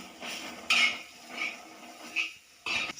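Stirring a bitter gourd stir-fry with salt in a pan, heard as a few bursts of metal scraping and clinking: one or two strokes every second or so, close and fairly clear with no talk.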